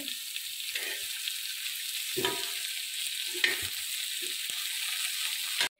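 A spice mixture for a mutton masala roasts in oil, producing a faint, steady background sizzle with a few soft scrapes and clinks of a stirring spoon, then stopping abruptly near the end.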